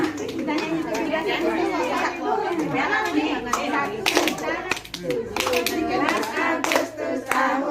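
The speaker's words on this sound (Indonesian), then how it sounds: "Tepuk tangan teman sebelah, tepuk tangan sebelah" Schoolchildren in an Indonesian classroom clap their hands, and some clap a neighbour's hands, in brisk rhythmic bursts mixed with lively chatter and a teacher's voice calling out instructions.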